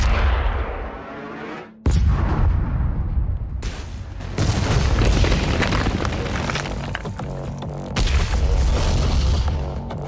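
A large weapon in Doom Eternal fires with a sudden sharp blast, followed by sustained heavy booming and rumbling explosions that stay loud and dense for several seconds, no talking.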